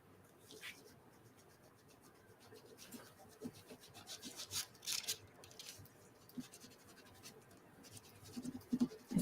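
Embossing paste is rubbed off an art journal page in faint, uneven scratchy strokes that quicken and grow more insistent toward the end, close and quiet with no voices.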